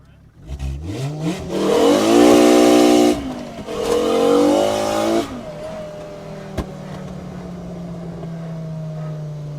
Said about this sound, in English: Should I do a little burnout real quick?